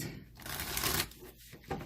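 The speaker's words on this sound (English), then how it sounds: "I don't know why I'm shuffling again." A deck of cards riffle-shuffled once or twice, a rapid fluttering burst of clicks up close with a brief pause between.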